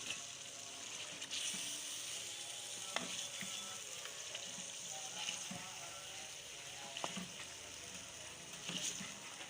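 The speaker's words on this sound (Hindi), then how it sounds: "आलूओं को अच्छी तरह से भूनेंगे मिसाले में" Potatoes frying in spice masala in a pan for moongre aloo, a steady soft sizzle with occasional sharp clicks of stirring, close and moderately quiet, no talking.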